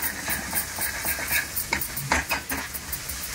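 A spice masala for egg bhurji is stirred in a pan over a low flame, with a soft continuous sizzle broken by repeated scraping strokes of a spatula against the metal, close and clear.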